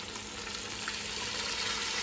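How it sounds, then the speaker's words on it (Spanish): Freshly ground chili added to browned pork for adobo, sizzling in a hot pan: a steady, close hiss and crackle of frying throughout, with no talking. "Ahora voy a ir agregando el chile que acabo de moler a la carne que ya está dorada."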